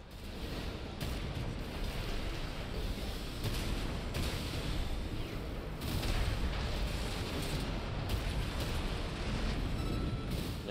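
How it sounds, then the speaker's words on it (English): Missile and weapon fire from the mech combat game Armored Core 6 during a PvP match: a dense, continuous barrage of booming blasts and rumbling explosions that runs loud and steady throughout, with no talking. "These missiles really keep the pressure on, man."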